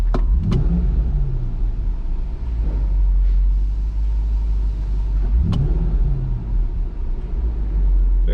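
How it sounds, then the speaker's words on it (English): A car engine idles with a low steady rumble, then twice snaps up to a quick wide-open-throttle rev that climbs and falls back, close and loud in a shop. "Let's give it a throttle blurb from idle."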